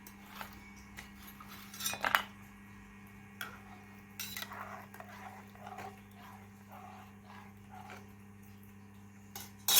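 Quiet kitchen scene with a spoon scraping and clinking against a pressure cooker pot of khichdi in short irregular bursts over a low steady hum.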